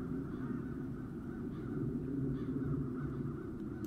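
Crows caw in the video game Chains of Satinav, their repeated calls fairly quiet over a continuous low ambient background, with no speech.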